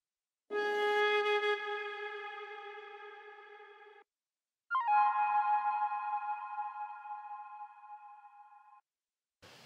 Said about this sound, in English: but I also added like a few flute one shots,